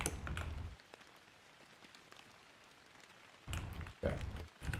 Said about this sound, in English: I use a rain, like an ambient rain video, just to kind of add some background noise.